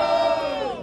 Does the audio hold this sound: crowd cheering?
yes